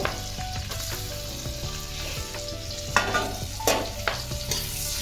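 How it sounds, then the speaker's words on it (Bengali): Chopped onion frying in hot oil with cloves and black peppercorns for a winter chicken soup, a steady close sizzle with occasional louder crackles and stirring scrapes, no talking. "একটা পেঁয়াজ কুচি করে রেখেছিলাম ওই পেঁয়াজটা দিয়ে দেবো"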